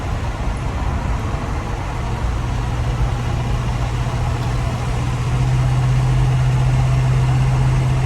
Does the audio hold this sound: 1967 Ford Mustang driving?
yes